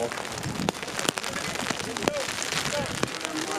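Rain patters densely on an umbrella at an outdoor softball game, a loud continuous hiss of drops with sharper taps popping out now and then, close overhead.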